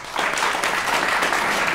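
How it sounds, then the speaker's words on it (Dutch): A Dutch music talk-show studio audience applauds for a violinist and pianist, a dense, steady burst of clapping that fills the room loudly and evenly from start to finish. "Alvast een hartelijk applaus."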